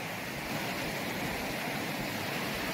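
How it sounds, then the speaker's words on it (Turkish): A mountain creek running between hills near Kastamonu and Çankırı gives a loud, dense, continuous rush of flowing water, steady throughout with no voices. "Gördüğünüz gibi böyle dağların arasından böyle dere kenarı var."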